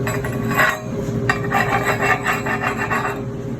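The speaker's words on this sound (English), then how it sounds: "Make sure chip it up with the hammer." Close, steady scraping and rasping of a hammer chipping slag off a stick weld, with occasional light taps and no voices.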